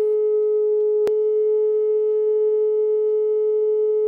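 A steady pure sine tone drives a Rubens flame tube, holding one pitch for about four seconds at moderate level, with a single brief click partway through and no talking.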